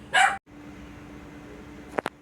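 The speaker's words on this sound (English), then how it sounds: "husband's pulling in, so the dog's barking." A house dog barks once loudly up close, followed after a quiet stretch by two short, sharper yips over faint room noise in a home kitchen during canning.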